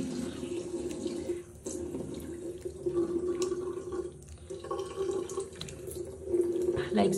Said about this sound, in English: I start off by washing my face with some warm water